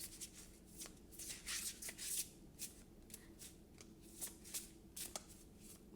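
Tarot cards being shuffled by hand, a series of quiet papery riffles and soft flicks in uneven bursts, close up with no voices.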